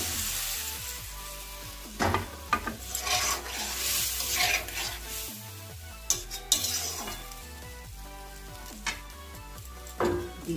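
Fried egg and potato sizzle in masala in a kadai while a spatula stirs, giving a steady frying hiss broken by irregular clinks and scrapes of metal, close and without talk.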